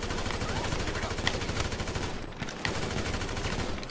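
Rapid gunfire from GTA 5 Online on Xbox One, a dense, continuous burst of automatic shots that stays loud and close for the whole stretch, with sharper cracks standing out at a few points.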